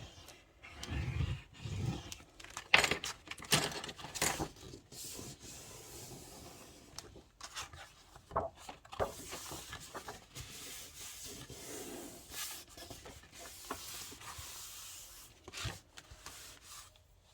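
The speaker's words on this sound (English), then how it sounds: "use my bone folder, to make just a crease in my cardstock so it'll wrap around my box a little bit easier" Bone folder creasing a sheet of cardstock for a journal cover, heard as close, quiet rubbing and scraping strokes in irregular bursts, with a few soft paper taps and no speech.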